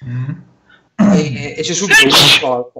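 A single loud, close sneeze bursts out in the middle of Italian speech, with someone talking just before and after it.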